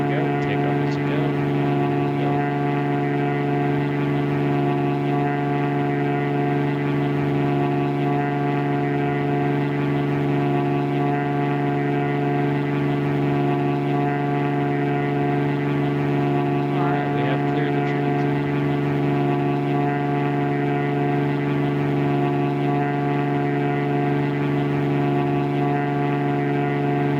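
Cessna 206 airplane on its takeoff run, a loud, steady piston engine and propeller drone with strong sustained tones filling the cabin, holding constant throughout with faint cockpit sounds over it.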